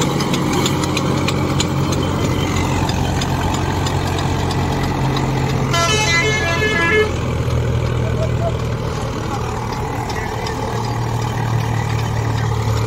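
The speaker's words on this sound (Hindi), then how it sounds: "लो जी आवाज चेक करो ट्रैक्टर की" A tractor engine runs steadily and loudly throughout, a low rumbling idle with a brief high metallic whine partway through.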